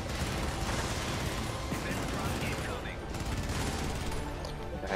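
Sustained turret gunfire in the Helldivers co-op shooter hammers on in a dense, unbroken rattle close by, with mechanical whirring beneath it and faint talk in the mix.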